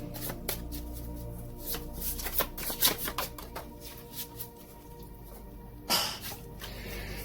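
Tarot cards are shuffled by hand in quick riffling, flapping bursts. Several close, crisp shuffles run one after another, with a louder riffle near the end and no talking.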